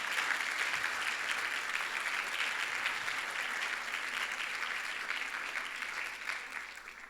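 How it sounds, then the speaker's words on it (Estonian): Sustained, dense applause from a large crowd at a playback show, steady throughout and tapering slightly at the end. "teeme ühe suure aplausi."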